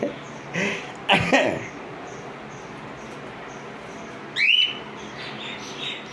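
A pet parrot gives a few short rough coughing and throat-clearing sounds mixed with a sharp chirp, close by over a quiet room with a little background noise.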